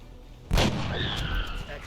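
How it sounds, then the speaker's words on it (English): A single sharp sniper rifle shot in an Xbox video game lands a headshot: one loud, close crack with a booming, echoing tail fading over a second. "let's use our sniper with headshot"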